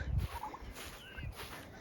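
Farm turkeys, two young and three adults, making soft, faint gobbling and clucking calls outdoors, a couple of brief calls over low background noise.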